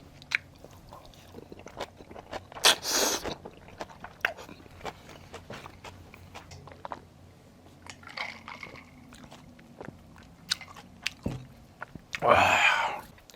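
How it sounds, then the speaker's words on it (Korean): Close, wet chewing and biting on Korean boiled pork bossam at a long-established restaurant, with soft irregular squishy mastication, ticks and a couple of louder crunchy bites, mostly without talk. "마지막 한 입을 먹도록 할게요"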